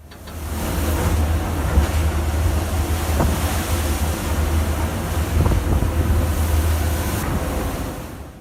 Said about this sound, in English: Giant waves repeatedly crashed into the Scottish fishing vessel, but the ship still fought through harsh conditions in the North Atlantic.